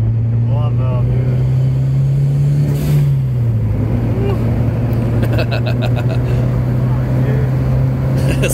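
Honda Prelude engine droning steadily at close range, a low sustained hum that rises slightly then settles, with brief hissing bursts near the end and people talking over it.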